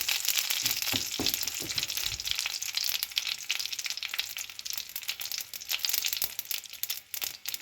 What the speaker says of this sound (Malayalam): ഇപ്പോൾ കടുക് പൊട്ടിയിട്ടുണ്ട്